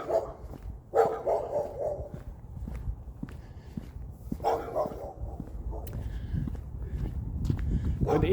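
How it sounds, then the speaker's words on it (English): A dog inside a house barks at a passer-by on a street in Omaha, Nebraska, sending out several short bursts of barking at moderate distance between footsteps and outdoor background noise. "There's a dog inside there that doesn't seem to like me walking down the street."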